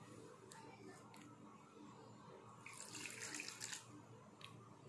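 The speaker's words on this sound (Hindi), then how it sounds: "थोड़ा थोड़ा करके पानी डालते जाएंगे और आटे की तरह इसको गूंद लेंगे।" Water trickles and splashes into a bowl of flour for chicken bread dough, with a brief louder pouring burst midway and faint clinks around it, quiet and close.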